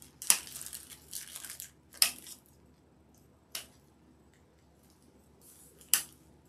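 Boxwood stems are cut into pieces with four crisp snips spread a second or two apart, with soft leafy rustling and crunching between them, close and fairly quiet.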